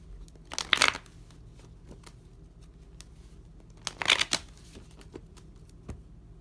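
Oracle cards are shuffled by hand in two short riffling bursts a few seconds apart, crisp and close, with a few faint ticks and taps between them and no talking.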